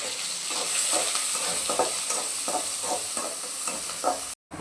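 Onions and green chillies hit hot oil in a pan and fry with a loud, close, continuous sizzle, broken by rhythmic stirring scrapes, then a brief cut to near-silence at the end.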